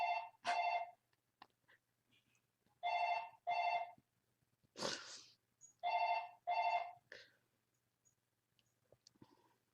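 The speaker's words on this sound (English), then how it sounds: "Isn't that fantastic that my phone can tell me who's calling out aloud?" A mobile phone rings with repeated paired electronic tone bursts, interrupted by a short automated voice announcing the caller, fairly close and clear in a quiet room.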